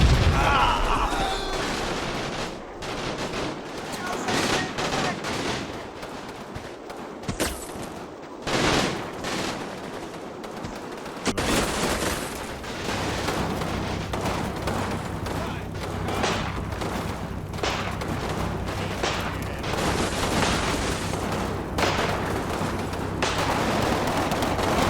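Battle sounds from Combat Mission Battle for Normandy: a Sherman's 105 gun booms amid dense rattling gunfire and explosions, loud and continuous, with a narrator talking over much of it.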